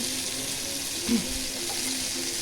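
Fish sizzles steadily in hot oil in a pan, a continuous bright frying hiss with a brief louder splutter midway, close and without talk.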